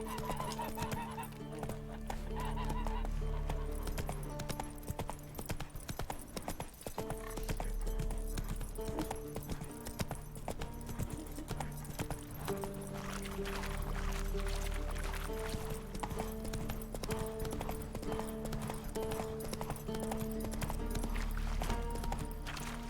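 The horse Roach's hooves clip-clop steadily throughout a ride in The Witcher 3: Hearts of Stone, a continuous trotting rhythm under game music and ambience.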